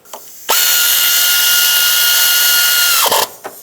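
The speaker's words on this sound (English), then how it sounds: "Put your ignition coil back down, press it all the way onto the spark plug, reconnect it, and let's bolt it on." A power tool driving the bolt that holds an ignition coil onto a 2006-2011 Chevy HHR engine, one loud steady whirring run of about two and a half seconds that winds down and stops, close, no talking.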